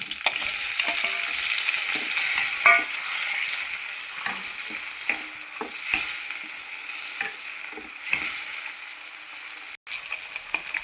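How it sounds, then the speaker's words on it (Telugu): Small pusa parigalu fish fry in hot oil with a continuous loud sizzle, punctuated by the scrape and clink of stirring. "ఇప్పుడు ఇందులో ఈ పోసపరుగులు వేసుకుందాము నూనెలో వేపుకోవాలి"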